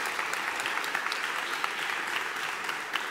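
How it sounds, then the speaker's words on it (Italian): Steady applause from an audience at a talk on the science of fermentation, an even wash of many hands clapping at moderate level throughout. "Un applauso."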